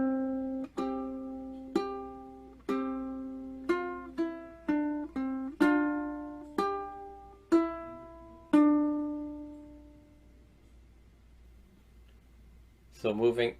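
Ukulele picked fingerstyle through the second bar of Lavender's Blue at a slightly quicker pace: about a dozen bright single notes in an even rhythm, the last one left ringing out, followed by a brief rustle.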